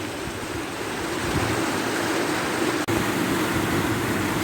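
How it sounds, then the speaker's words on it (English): Torver Beck, a mountain stream beneath the Old Man of Coniston, tumbles over rocks in a close, steady rush of water that holds unbroken throughout. "the beck tumbling over rocks underneath the old man of Coniston"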